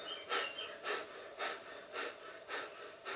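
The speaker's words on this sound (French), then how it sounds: "reprenez votre respiration, soit longue et profonde, soit respiration du feu" Rapid, rhythmic breath-of-fire breathing during kundalini yoga: six forceful puffs through the nose at an even pace of roughly two per second, close and fairly soft, with no talk.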